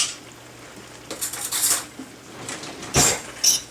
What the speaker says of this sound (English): And just stir it in there, and we'll cook the noodles for about 1 to 2 minutes.